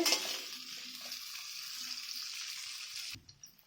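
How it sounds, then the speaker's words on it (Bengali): Tomato, capsicum and onion frying in a pan, a steady close sizzle with faint stirring taps that stops abruptly near the end, leaving near silence. "টমেটো ক্যাপসিকাম পেঁয়াজ আমি এগুলোকে ভেজে নেবো নরম করে"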